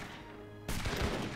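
Cannon fire in the Age of Empires 3 video game, India campaign: after a low ambient hum, a sudden sharp blast lands mid-clip, followed by rumbling battle noise, fairly faint overall.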